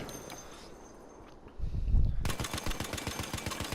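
An M1917 machine gun fires in Battlefield, a rapid burst of heavy automatic shots that starts partway in after a dull thump and keeps going, loud and close.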